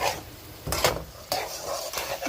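Chicken Manchurian being mixed in a pan after soy sauce goes in, a soft sizzle with three distinct scraping stirs of a utensil against the pan, no voices.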